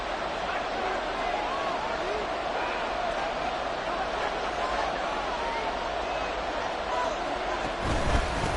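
A stadium crowd roars in an EA Sports football video game during a Miami drive near the goal line, a constant, dense wash of cheering that holds steady and swells slightly at the very end.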